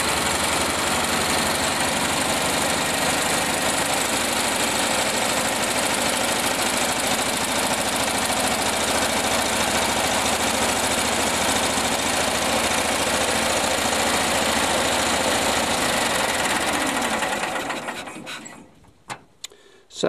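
A small engine with a freshly cleaned carburetor runs and idles after starting, a loud, steady, rough drone that holds for most of the clip. It then cuts out near the end, leaving a few faint knocks and clicks. Nobody speaks.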